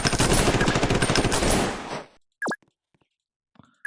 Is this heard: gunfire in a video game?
yes